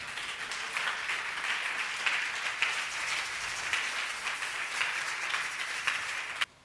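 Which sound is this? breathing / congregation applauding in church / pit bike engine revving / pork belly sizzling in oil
congregation applauding in church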